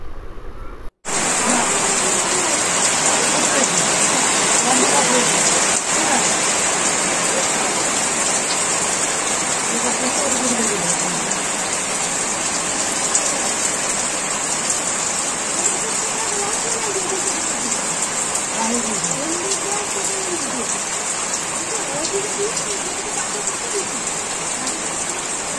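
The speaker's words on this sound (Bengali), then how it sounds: "প্রচণ্ড বৃষ্টি হচ্ছে বাইরে" Heavy rain pours outside a home in a steady, dense roar that fills the whole stretch at a constant loud level, with faint voices and murmurs mixed in beneath the downpour.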